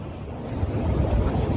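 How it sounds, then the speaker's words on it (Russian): A large sea wave breaking off the coast of Spain, a loud, steady rush of water and surf churning under heavy wind buffeting the microphone, with no speech. "Большая идет волна."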